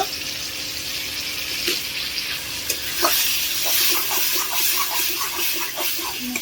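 Pigeon meat curry with garam masala sautéing in a pan, a steady close sizzle with sharp stirring scrapes and clicks from about the three-second mark, no talking.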